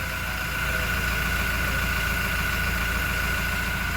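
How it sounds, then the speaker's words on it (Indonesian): A Toyota Innova engine fitted with a Datatec racing air filter idles steadily up close, a constant even hum with no change in pace and no talking. "Ini kita bisa lihat saya sudah hidupkan untuk mesinnya, dan kita dengarkan idle-nya ya."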